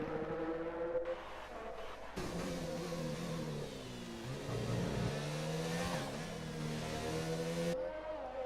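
A race car pulling out of the pits in an F1 video game during Belgian qualifying, a steady engine drone that climbs in pitch as it accelerates and shifts, moderately loud and unbroken.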